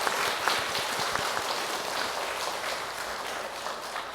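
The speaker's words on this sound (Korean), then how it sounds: "우리의 찬양을, 우리의 연주를 받으신 우리 하나님께 큰 박수로 함께 영광 돌리겠습니다." A church congregation applauds during a worship service, a steady, even patter of many hands clapping at moderate volume, with no voices standing out.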